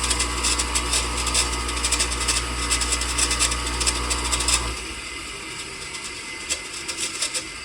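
Layout machine motor spinning with its belt removed, a steady close mechanical hum with rattling bearing noise that cuts off partway through, leaving quieter workshop sounds.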